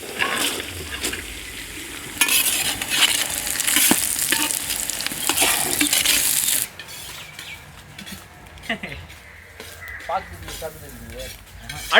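Carrots tossed and stir-fried in a hot pan for restaurant-style chicken fried rice, a loud steady sizzle with scraping stirs that drops to quieter clinks and stirring about halfway through.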